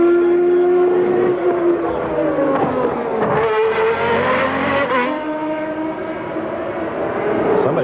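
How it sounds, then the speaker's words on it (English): A Formula One car engine screams near the rev limiter at a race in Adelaide, loud and close with a high sustained whine that wavers and bounces in pitch, while other engine tones blend in behind it. "Somebody right on the rev limiter might be Gerhard Berger."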